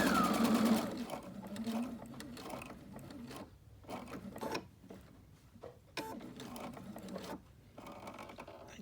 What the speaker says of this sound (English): I am going to stitch from where I am to the corner of the fabric